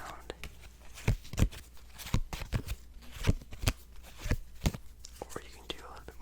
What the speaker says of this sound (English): I know a lot of people like the singular sort of shuffling sound.